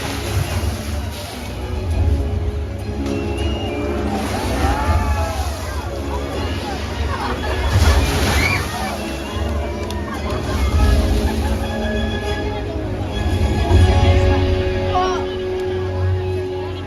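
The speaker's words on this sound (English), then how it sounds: "Now that you all witness these waves crashing in front of you" Water crashing and sloshing as a killer whale splashes in a show pool at SeaWorld San Diego, a steady wash of surge and spray with crowd babble and an announcer's voice throughout.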